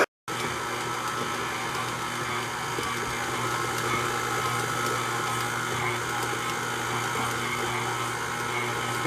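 A stand mixer kneads homemade pizza dough of flour, oil and warm water, its motor humming in a steady, even drone from start to finish, close and constant with no talking.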